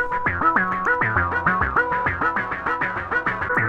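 An OP-1 Field synthesizer plays a repeating, bouncing melodic pattern through a feedback delay, the echoing notes stepping up and down in a steady rhythm, clean and alone.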